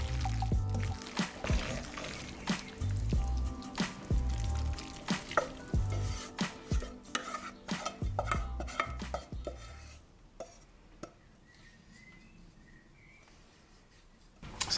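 Sauce is poured generously over food in a kitchen, with a run of close clinks, scrapes and wet splattering sounds that fade to near quiet toward the end, and no talking.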